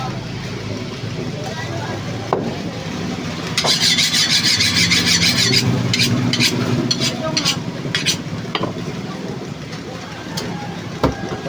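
Food sizzles and crackles in a pan, with bursts of scraping and stirring partway through, over a steady background rumble.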